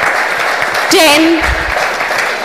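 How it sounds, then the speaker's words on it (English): Applause from a crowd at an LG refrigerator launch event in Pune runs steadily through a countdown, a voice calling out numbers over the clapping. "the claps shouldn't stop"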